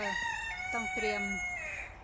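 Chickens crow outdoors on the grounds of a Thai temple in Belgium, a rooster's drawn-out calls ringing clearly over someone speaking close by.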